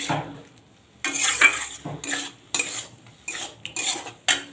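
Boiled potatoes being stirred and fried in a pan, with bursts of scraping spatula strokes and metal clatter against the pan at irregular intervals, close and fairly loud, separated by short quiet gaps.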